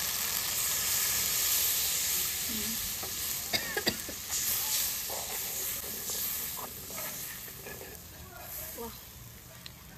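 Water hits a hot pan over a wood-fired stove with turmeric, red chili and Maggi noodle spices, giving a hissing sizzle with stirring scrapes and clinks. Faint voices are heard under it.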